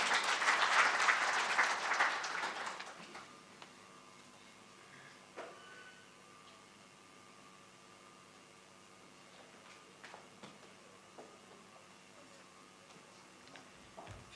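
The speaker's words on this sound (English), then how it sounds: "Another big round of applause, please." Conference audience applause, a loud burst of many people clapping that fades out after about three seconds, leaving a quiet room with scattered small clicks and rustles.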